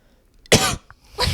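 Two short, harsh coughs close by, a burst and then another after a brief pause, with a faint throat sound between them.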